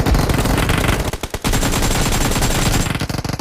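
Rapid automatic gunfire in the mobile battle-royale game PUBG Mobile: dense, loud bursts of shots fired almost continuously, with a brief lull partway through and no talking.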